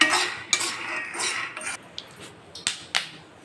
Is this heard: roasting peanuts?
yes